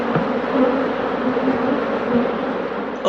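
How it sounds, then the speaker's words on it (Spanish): Stingless earth bees buzzing inside a small hive in a hollow old tree trunk in Cuba, a dense steady drone of many insects, close and continuous with no voices. "Son abejas de la tierra, como se les conoce popularmente aquí en Cuba."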